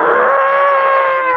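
An elephant calling with a loud, close, sustained harmonic trumpet-like cry that holds for over a second.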